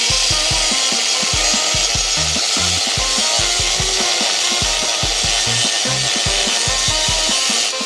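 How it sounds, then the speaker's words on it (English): Cast aluminum part from a crashed BMW X5 M50 being cut with a power saw, a loud, steady rasping drone with rapid rhythmic strokes throughout, close and continuous with no talking. "we're going to cut on the other side on the top here to kind of get a little bit more tension off"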